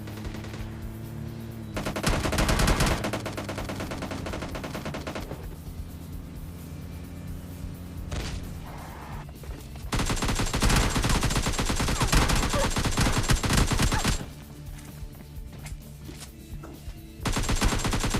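Rapid gunfire in the mobile battle royale game PUBG Mobile Lite, loud bursts of automatic shots in several stretches separated by quieter gaps, with no talking over it.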